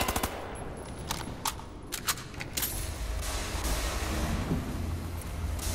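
Rapid automatic assault rifle fire in a Wolfenstein: The New Order World War 2 level, loud bursts of close shots rattling over a dense, busy battle din throughout.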